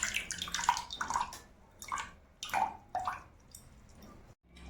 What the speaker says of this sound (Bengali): ওই ছাঁকনির সাহায্যে এগুলোকে আগে ছেঁকে নেব